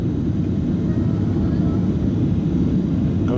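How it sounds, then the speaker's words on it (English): A Jet Airways Boeing 737-800 airliner coming in to land at New Delhi's Indira Gandhi International Airport fills the cabin with a loud, steady low roar of engine and air noise, constant throughout. "Jet Airways, Boeing 737-800."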